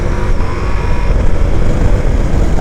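Ducati Multistrada V4S motorcycle with 170 hp V4 engine under way while riding, a steady loud engine drone with wind rush and a rising pitch toward the end, no voices.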